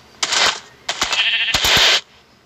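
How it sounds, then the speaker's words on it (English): Sheep in Minecraft bleat three times in quick succession, with short, loud, nasal calls and brief gaps between them, clear and close with no talk. "Sheep. Don't kill."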